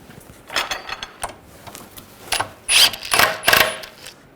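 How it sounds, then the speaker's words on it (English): A ratchet tightens a nut on a 2006-2010 BMW 550i rear suspension link, giving several short bursts of close mechanical clicking separated by brief pauses. "Snug that nut first."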